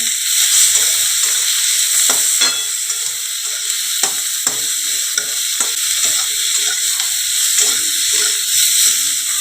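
Turmeric and Kashmiri chili powder added to chopped tomato in hot oil sizzle continuously and close up, with a few soft stirring scrapes breaking through the steady hiss.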